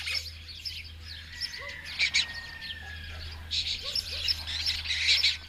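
Pigeons, jackdaws and lesser kestrels call across the rooftops of Matera in a steady chorus of chirps and cries, swelling into louder bursts with a low constant hum underneath.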